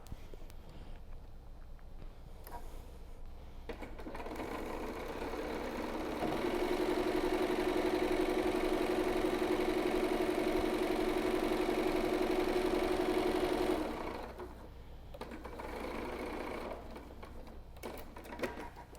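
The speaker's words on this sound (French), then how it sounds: "on va venir faire une surpiqûre à 1 cm du bord, tout simplement" A sewing machine runs steadily for several seconds, topstitching 1 cm from the edge of a pleated fabric face mask. Its even mechanical whir rises above quiet room noise and then stops.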